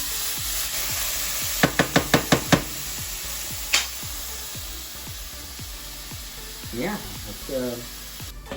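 Onions and garlic fry in a pan for a curry chicken, with a steady hiss under a run of sharp utensil taps, a few scraping stirs and a brief spoken word.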